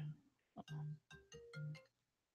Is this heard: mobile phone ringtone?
yes